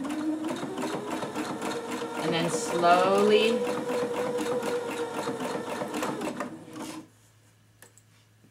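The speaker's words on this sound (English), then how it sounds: "I'm gonna sew right along the bottom of my casing with a zigzag stitch." Home sewing machine running a zigzag stitch along the bottom of a fabric casing for a shirt extender, a steady mechanical whirring hum for about seven seconds under a voice, then stopping abruptly.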